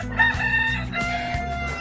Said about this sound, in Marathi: घरच्याच कोंबड्या, घरच्याच बकऱ्या.